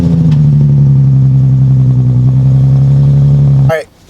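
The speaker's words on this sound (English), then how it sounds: "let's get a cold start" A Nissan 370Z idles loudly and steadily right after a cold start, a deep, even engine drone close by that cuts off abruptly near the end, followed by a brief burst of voice.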